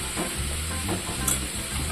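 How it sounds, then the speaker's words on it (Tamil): Tomatoes, carrot and onion fry in a pan, giving a steady close sizzle with soft stirring scrapes and no talking. "போட்டு இது நல்லா கொஞ்சம் ஃப்ரை ஆகட்டும். தக்காளி, கேரட்டு, வெங்காயம் இதெல்லாம் கொஞ்சம் வேகட்டும்."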